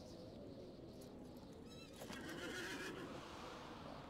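A horse neighs in the Lord of the Rings Online game, a rising whinny with a tremulous vibrato, followed by faint clip-clop of hooves over steady background noise.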